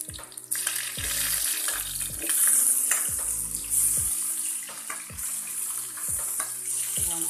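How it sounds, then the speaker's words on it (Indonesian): Water poured into a cooking pot while making snail noodles (mie siput) with tomato, a steady splashing, rushing stream that holds at moderate loudness for several seconds with faint clinks and kitchen noise beneath. "tuang air"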